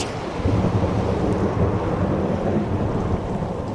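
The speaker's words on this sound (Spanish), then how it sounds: "Los fuertes vientos y tormentas lejanas comenzaron a arreciar." A thunderstorm with strong wind roars steadily, a dense rumbling wash of wind and distant thunder with rain-like hiss, continuous and fairly loud with no voices.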